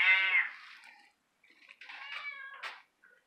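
Cats in a litter cage meow close by: one clear, loud meow at the start, then a short pause and a cluster of softer, broken meows against near silence.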